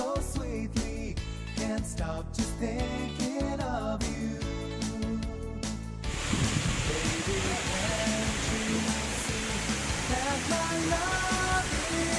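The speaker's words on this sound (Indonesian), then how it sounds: "ini saya di depan air terjun Sendang Gila ya" Music plays for several seconds, then gives way to a constant rushing roar of falling water, broad and steady, from the nearby Sendang Gila waterfall in Lombok, Indonesia.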